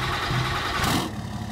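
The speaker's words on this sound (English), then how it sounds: "The old Cummins fires right up here. One of my favorite diesel engines." An old Cummins diesel engine in a pickup truck in Farming Simulator 22 turns over and catches, a close, rough mechanical rumble that shifts in tone near the end, with no voices.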